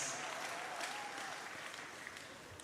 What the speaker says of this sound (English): Let's have a round of applause for our 66 national scholars, exhibitions, and bursary awardees.